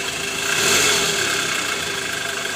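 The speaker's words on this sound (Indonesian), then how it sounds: "Sekarang suara mesinnya jauh lebih halus guys." A motorcycle engine running smoothly after a balancer shaft replacement, with a steady hum that swells briefly at about the one-second mark and then settles back to an even level, with no talk.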